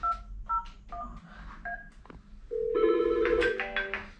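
Touch-tone keypad dialing on a 3CX office desk phone: a short series of distinct beeps, one per key press, followed by a louder, steady ringback tone with no talking.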